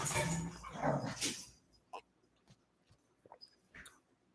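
Dogs growl and bark in a scuffle at first, followed by scattered yips, whimpers and small clatters as things calm down.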